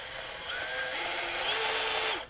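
A FLEX 24-volt brushless band saw cuts slowly at a low variable-speed setting, a steady whining motor hum with a faint shifting tone, close and continuous, stopping at the end.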